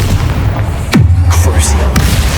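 Fire-blast spell from Hogwarts Legacy: a loud booming burst with a sharp whoosh, followed by a sustained low rumble and a second crack near the end, alone with no talk.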